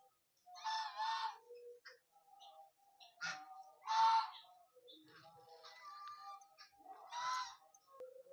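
Loud, harsh honking calls from a duck, several separate squawks spaced out over a quiet background, at a temple.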